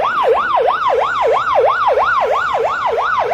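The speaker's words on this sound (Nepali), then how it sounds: "निषेधित क्षेत्रभित्र एम्बुलेन्स परेको छ।" An ambulance siren wails inside a restricted zone, a loud, close, steady up-and-down cycle that repeats about every third of a second, with no talk over it.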